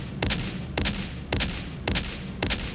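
Repeated gunfire bursts in the horror game Harvester, five sharp volleys spaced about half a second apart, each a loud crack with a thudding tail, fairly steady and close.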